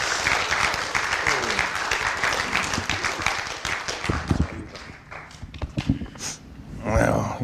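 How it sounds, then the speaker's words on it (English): A church congregation applauds together in a hall, the clapping dense and sustained before thinning out near the end, with scattered voices mixed in. "Let's give him a hand of applause."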